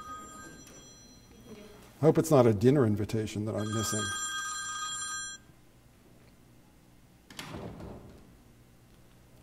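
A mobile phone rings during a lecture, a bright warbling electronic ring in a quick burst with a trailing tone, near and fairly loud, followed by someone speaking and a brief clatter.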